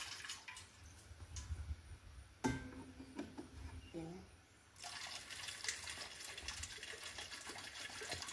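Distilled water is poured and measured for homemade guava soap, making a close, thin trickle that rises into a gurgling splash, stops briefly, then comes back as a steadier flow. Quiet talk runs underneath.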